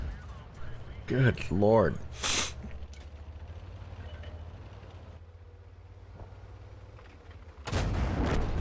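World of Tanks gunfire and an ammo rack detonation in the Thunderbolt tank on Himmelsdorf: sharp cannon blasts early on, a sustained engine rumble, then a loud explosive burst near the end, with someone speaking briefly.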